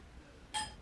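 A single bright clink of glasses touching, quick and ringing, against a quiet background.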